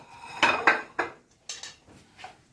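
Cooked pasta tipped into a metal pan for a beef pasta dish, giving several sharp clanks and scrapes of metal and utensils in quick bursts, fairly close, with no talk.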